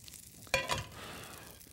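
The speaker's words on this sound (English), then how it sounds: "You can test this pan just by going like that, and sizzle." Olive oil sizzles sharply in a very hot pan while burgers cook, a sudden loud hiss that peaks briefly and then settles into a steady, softer frying crackle close by.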